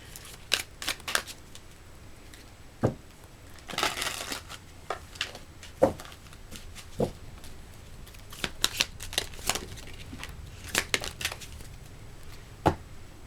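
Tarot cards are shuffled close by in irregular bursts of riffling and sharp snaps, separated by quieter pauses of handling.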